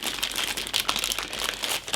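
Crisp, close crinkling of a plastic bag holding the plastic parts of a scale model kit, a busy stream of irregular rustles and crackles with no talking.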